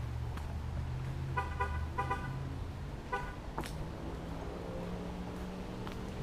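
Car horn honks on a city street while walking in Dallas, several short harmonic toots in quick pairs and a later blast, moderately near over steady traffic rumble.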